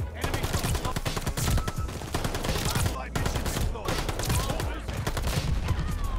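MP-40 submachine gun fire aimed at barrels in Call of Duty, loud rapid bursts in quick succession with brief gaps, beneath faint player chatter.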